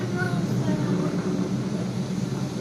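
Falcon 9 rocket climbing past Mach 1, its engines giving a steady, dense, continuous roar heard from a distance, with faint radio chatter underneath.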